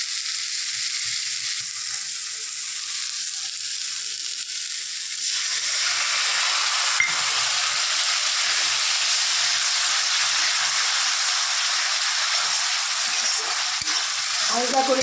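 Soaked mustard paste sizzles loudly in a hot pan of fish curry with sugar added. A steady close hiss swells and grows stronger about midway, with faint stirring scrapes beneath.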